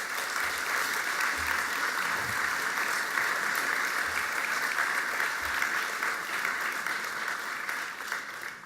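Audience applause for children at the Metz mayor's New Year speech in a hall, a sustained, even roar of many hands clapping for several seconds, tapering slightly at the end.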